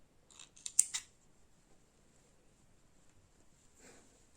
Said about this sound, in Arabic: بس الاول هنقص شوية من الخيط الحتة الزيادة دي